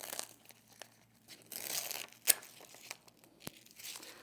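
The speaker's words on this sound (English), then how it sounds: "peel off that excess vinyl, leaving the letters that we typed out behind" Excess glitter heat transfer vinyl being peeled off its carrier sheet: close, quiet crinkling and tearing in irregular bursts, with a sharp peel crackle and a snap near the end.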